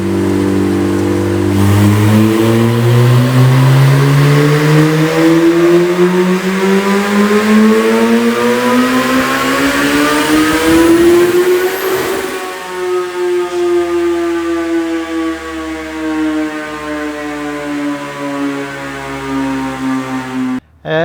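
A Suzuki Hayabusa turbo motorcycle revs on a dynamometer, its engine climbing loudly and steadily in pitch for about twelve seconds, then dropping back to a high, droning run.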